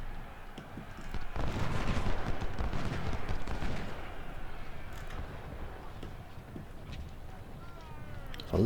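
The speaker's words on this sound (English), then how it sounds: "A lot of cannons." Cannon and canister fire in the Civil War strategy game Ultimate General: Civil War during the Siege of Suffolk, a dense rumble of booming shots that peaks early, then settles into a steady battle din under a voice.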